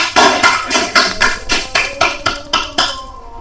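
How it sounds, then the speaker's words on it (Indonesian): A class of children in a classroom claps together in a rhythmic pattern of about nine crisp, evenly spaced claps that fade slightly at the end, with no voices. "Mari kita beri tepuk tangan untuk kita semua."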